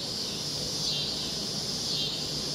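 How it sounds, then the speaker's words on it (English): Cicadas drone in the woods on a hike in Gatlinburg, a high, steady buzzing that swells and fades in slow waves, fairly faint and distant against quiet surroundings. "Those are cicadas."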